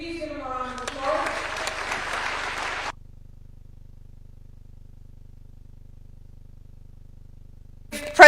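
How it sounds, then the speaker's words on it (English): Audience at the African Forward Summit with African presidents breaks into applause, a dense burst of clapping lasting about two seconds after a voice, then abrupt silence. "Please give him a round of applause."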